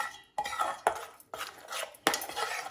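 Yogurt being stirred in a bowl with a spoon, giving four scraping clinks of utensil against the dish with short soft swirls between them, close and fairly quiet, no voices.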